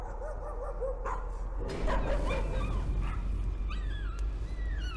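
A dog in the video game Layers of Fear whimpers and yips in high, wavering cries over a steady low hum, with a brief louder burst partway through.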